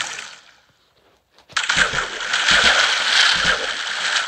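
A Minecraft player entering water gives a brief quiet lead-in, then a sudden loud burst of continuous splashing and sloshing water that carries on steadily to the end.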